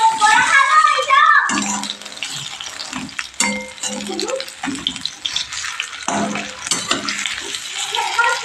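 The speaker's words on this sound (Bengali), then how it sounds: "এই বড়াগুলোকে আমি একইভাবে লাল লাল করে ভেজে নেব" Lentil fritters frying in hot oil in a home kitchen give a broadband sizzle, with clattering knocks and handling noises over it throughout.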